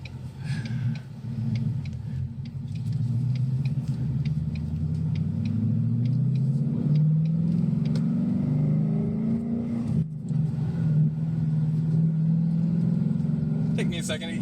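A 2021 Ford Mustang 5.0 V8 cruises in second gear with a deep low rumble that swells gradually as it pulls, heard from inside the car with people talking over it and occasional ticking clicks.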